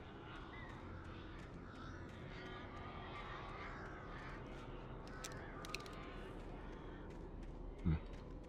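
Crows caw in scattered bursts over a steady wash of ambient game noise in Alan Wake Remastered, where the birds come as enemies, their calls fairly faint and set in a dim, windy background.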